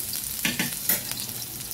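Ginger sautéing in hot oil in a pan, a steady close sizzle with a few louder bursts of stirring and spatula scrapes over under two seconds.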